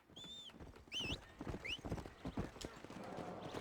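In Red Dead Redemption, rhythmic hoof clip-clops of a horse on hard ground, with a couple of whinnies and bird-like chirps, fairly near and steady throughout.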